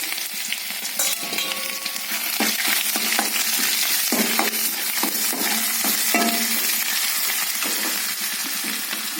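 Ginger garlic paste fries in a pan over a low flame for a vegetarian kari salna. A steady close sizzle runs throughout, broken by the scrape and clatter of stirring.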